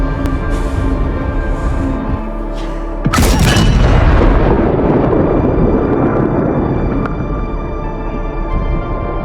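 A ship is struck and goes up in a movie explosion: a sudden deep boom bursts in after a quieter stretch of tense score, then rolls into a long loud rumble that slowly fades under sustained music.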